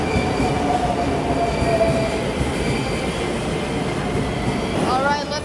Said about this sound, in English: our train's gonna be here in a couple of minutes,